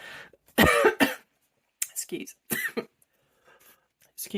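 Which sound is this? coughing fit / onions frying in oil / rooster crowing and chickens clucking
coughing fit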